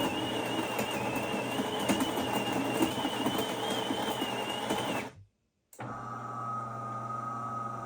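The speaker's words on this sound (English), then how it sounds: "So we are around 68 decibels during grinding" A DeLonghi Eletta Explore coffee machine grinding coffee beans, a steady whirring grind for about five seconds that stops abruptly, followed by a brief silence and then a quieter mechanical hum.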